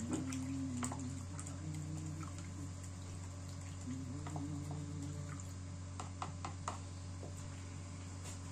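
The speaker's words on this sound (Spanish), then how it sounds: "Revolvemos bien." Salt water made from tap water and a few spoonfuls of salt being stirred in a container, with soft sloshing and small liquid splashes and clinks, fairly quiet and steady with no talking.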